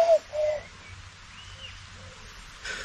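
Soft, low cooing notes from a wood pigeon, a few mellow hoots spaced apart against a quiet background, with a brief rustle at the end.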